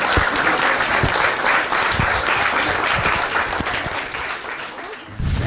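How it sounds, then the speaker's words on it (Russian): An audience in a hall gives sustained applause, dense and steady for over five seconds, with many hands clapping at once and a slight dip near the end. "Еще раз давайте аплодисменты."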